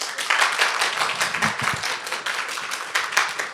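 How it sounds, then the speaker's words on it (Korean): An audience applauding the teachers at a school admissions information session, a dense burst of clapping for a few seconds, fairly near and steady. "박수 한번 보내주시죠"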